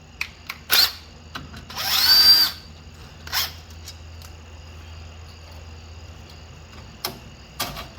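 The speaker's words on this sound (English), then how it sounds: "Tighten that bolt all the way up." A power tool tightens a bolt on a 1979 Chevy G20 van during wheel and exhaust work, sounding as a couple of short, loud whirring bursts amid quiet garage background and faint knocks.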